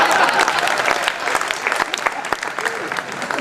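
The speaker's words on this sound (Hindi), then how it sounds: "सत्यम जी ताली बजाओ" Audience applause at a Hindi kavi sammelan poetry gathering held at an ordnance factory, a dense steady patter of many hands clapping throughout, with a few sharper individual claps standing out and a voice briefly heard under it.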